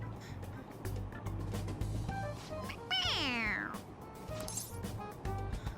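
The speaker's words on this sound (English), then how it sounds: "It meows when you press on its head." Toy stuffed cat meowing when pressed in the video game Persona 5 Royal, a single clear synthetic meow in the middle, heard over steady game background sound and low talk.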